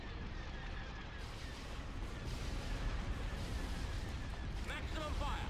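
A space fleet bunched close together bombards the enemy in Star Wars Empire at War: Forces of Corruption, a steady dense rumble of weapon fire and explosions with a player talking over it.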